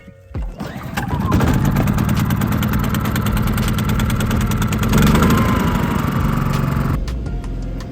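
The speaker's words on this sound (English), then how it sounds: "we're going to crank up the champion generator and get preparation started" A Champion portable generator is cranked and starts near a car detailing setup, catching after a brief sputter and settling into a loud, steady mid-pitched engine drone that holds for several seconds before easing back.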